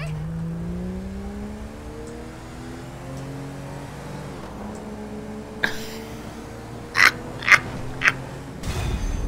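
A stolen car in a video game with its engine revving. A steady rising and falling engine tone runs throughout, and a few short sharp bursts come near the end.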